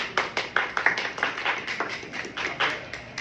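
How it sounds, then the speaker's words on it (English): A small group claps along in a classroom-style session, distinct individual hand claps in a loose, uneven rhythm, close and fairly loud, with no speech over them. "Good, clap it up."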